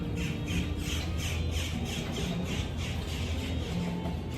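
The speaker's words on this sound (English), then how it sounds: "the birds are like right there at the table" Birds squawk loudly and repeatedly close to an outdoor table, harsh calls coming in a steady, rhythmic run of bursts over a constant background hum.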